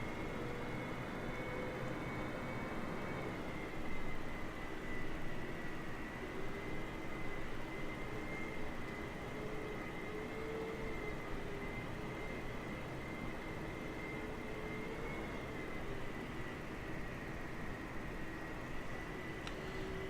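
A Boeing C-17 taxies slowly in Microsoft Flight Simulator 2020 at Brize Norton, its jet engines holding a steady, even whine and broadband rumble throughout, with no voices.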